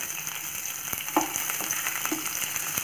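Chopped tomato and ivy gourd sauté in a pan, giving a continuous close sizzle with a few soft taps from stirring.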